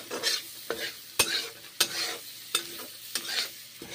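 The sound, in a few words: garlic and onions frying in butter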